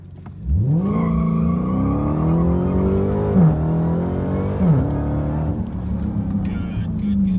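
A Mazda MX5 Miata engine pulls up through the revs and shifts gears on a test course, loud and steady with rising tone and brief dips at each change, voices talking over it.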